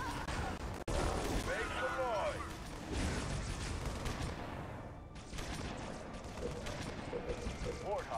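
Rockets launching and gunfire in the Halo Wars real-time strategy game, rapid bursts and whooshes over battlefield noise, with game voice lines spoken during it.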